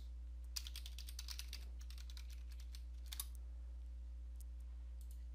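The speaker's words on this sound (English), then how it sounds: "And then we'll just type in our new password." Soft, close keystrokes on a computer keyboard as a password is entered, a quick run of clicks followed by a pause and a few more taps over a steady low hum.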